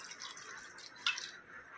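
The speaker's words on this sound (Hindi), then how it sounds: "आधा कप पानी डालेंगे" Water poured into a cooking pot of bone-in mutton, a soft liquid trickle and splash that stays fairly faint, with a brief brighter splash partway through.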